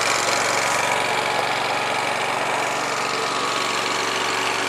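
A lawn mower engine runs steadily nearby in a yard, a constant mid-pitched droning hum with a faint rhythmic knock and no talk over it.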